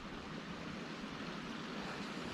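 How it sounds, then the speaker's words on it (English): Steady, low water trickling in a small stream after good rain, a continuous soft rush with no voices. "A little bit of water in the stream."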